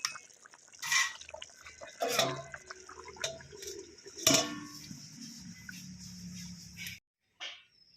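A lid clanks onto a pot of boiling country chicken curry cooked with ground spices, several sharp metallic knocks and scrapes over a low bubbling, ending in a brief silence and one last faint rattle.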